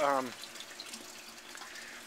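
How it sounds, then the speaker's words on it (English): Faint, steady bubbling and trickling of water in an aquarium sump, heard just after a brief voice at the start and continuing softly throughout. "Oh, here's some good bubbles coming out."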